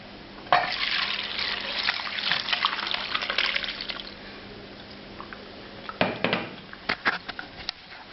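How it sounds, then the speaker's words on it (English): Aromatic milk-based broth is poured through a strainer with splashing, trickling liquid, loud at first, easing off and then resuming with a few drips and splashes. "this lovely aromatic broth that's mostly liquid milk is going to be strained."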